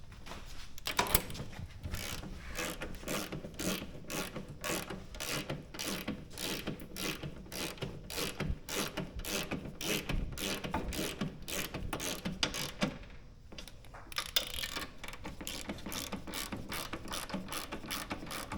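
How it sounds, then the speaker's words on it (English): A wrench ratchets in fast, even clicks while someone works on Harley-Davidson motorcycle shocks. The clicking runs near and continuous, pauses briefly, then resumes. "You really worked that stroke wrench pretty well."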